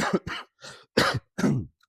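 A person close to the microphone coughs several times in quick succession, five short harsh bursts separated by brief silences, with no other sound around them.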